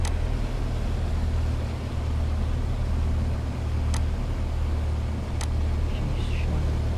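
Piper Cherokee 180 light aircraft engine idling as it taxis, a steady low drone close by with a couple of brief sharp clicks, and no speech over it.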